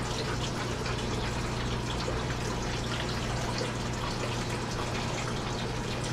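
Water pours and gushes steadily out of a heavy, waterlogged piece of scrap material, a continuous close splashing stream that holds constant without pause.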